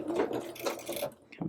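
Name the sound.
sewing machine locking stitches on doll dress seam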